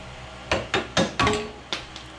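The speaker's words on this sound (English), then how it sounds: "I suppose that goes to show that you shouldn't use a screwdriver to pound something out, but I did." A screwdriver is hammered to pound a part out of a John Deere 455 mower: about six sharp, close metallic knocks land in an uneven rhythm, each ringing briefly before the next.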